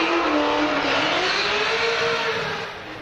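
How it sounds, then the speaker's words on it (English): Supercharged drift car engine at 7,500 RPM on 15 pounds of boost, held steady and loud against the rev limiter at a motorsport event, a continuous high buzzing whine that eases off slightly at the end. "You can hear the thing bounce off the limiter there."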